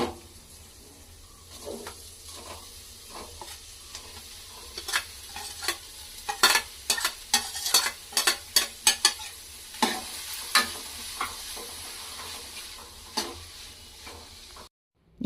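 Green gram (hesaru kalu) tempering sizzles in a pan, with a steady frying hiss and a run of sharp crackles and pops that cluster in the middle, close and fairly loud, with no voices.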